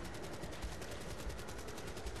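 Rapid automatic gunfire from the Black Ops 3 Dead Ops Arcade 2 top-down arcade mode, a dense steady stream of shots filling the whole stretch with no voices.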